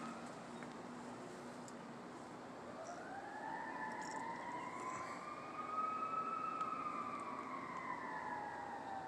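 A siren wails in the distance, its tone sliding upward and then holding a steady high pitch, faint beneath low background noise.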